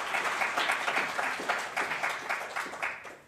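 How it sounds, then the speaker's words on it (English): An audience claps for panellists being welcomed at a discussion event, a moderate round of applause with scattered individual claps that tapers off toward the end. "I'd like to invite you all to give our panellists a quick round of applause to welcome them here."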